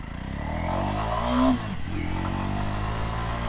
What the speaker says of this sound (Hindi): अभी मैं बाइक का पिकअप चेक करने वाला हूँ,